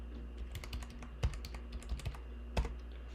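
Password typed on a computer keyboard to log into a Linux machine from Windows, a handful of separate soft key taps with a few louder presses, close, over a low steady hum.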